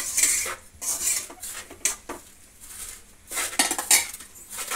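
A spoon stirring tomato gojju in a metal pan, bursts of scraping and clinking against the pan separated by brief pauses, close and fairly loud.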